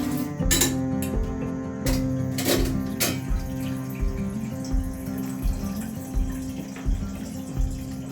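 Water runs steadily into a metal cooking pot of legumes for huli saaru, with sharp clinks and clanks of utensils against the vessel throughout.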